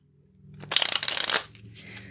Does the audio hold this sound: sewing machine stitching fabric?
no